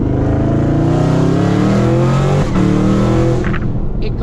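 An 800 hp Chevrolet Camaro ZL1 roars at high revs while drifting, its loud, harmonic engine note rising and holding steady, briefly dipping midway, heard close from inside the car.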